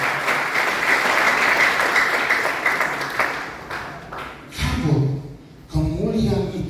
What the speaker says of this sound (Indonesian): Berikan tepuk tangan kita bagi Tuhan.